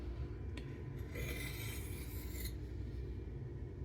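A knife blade of MagnaCut steel drawn lightly across a sharpening stone under just its own weight, soft steady rasping strokes, one per side, close and quiet.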